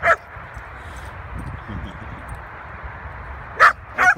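A dog barks outdoors, one sharp bark at the start and then two more close together near the end, over a steady low rumble of wind and movement.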